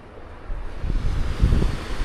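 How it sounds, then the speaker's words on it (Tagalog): Ocean waves wash against the seaside along a boulevard, a low rolling surge that swells midway, mixed with gusty wind buffeting the microphone. "Ito yung gilid ng dagat nga pala"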